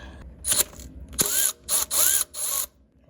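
A ratchet clicks in short bursts while loosening a nut on a Toyota Camry thermostat housing, four or five quick rattling runs separated by brief pauses, close and clear.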